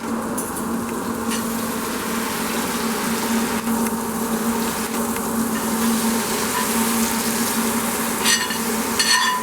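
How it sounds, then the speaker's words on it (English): Fried okra goes into a pot of boiling coconut curry, raising a steady bubbling sizzle that holds evenly and close throughout, with a few faint clinks of a utensil near the end. "So now we will transfer the okras in the curry."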